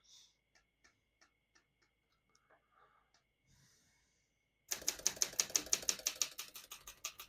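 Keys on a 1964 Olympia SM7 portable typewriter clack in a fast, even burst of strokes, loud and close, after a quieter stretch of sparse single taps and soft breathing.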